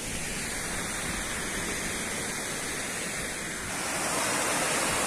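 A waterfall heard from a distance as a constant broad rushing roar, steady and enveloping throughout, with no voices over it.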